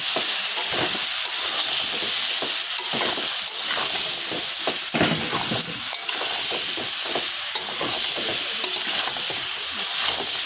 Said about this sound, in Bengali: লাউটা দিয়ে আবার একটু ভালো করে নেড়ে চেড়ে নেব